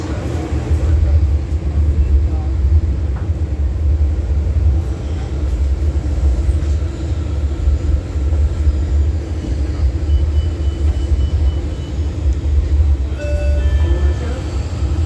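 A Washington D.C. Metro yellow line train rumbles along steadily with a deep, continuous roar and faint rail clatter, heard from inside the car.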